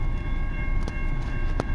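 A southbound CN M383 freight train rolls through Richmond, Michigan, giving a brief, continuous, close rumble with faint clicks and no voices.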